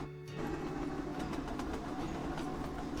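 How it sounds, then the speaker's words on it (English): An electric train runs on rails in a railway-building video game, a loud continuous rumble with faint rhythmic rail clicks throughout. "We finally have electric trains."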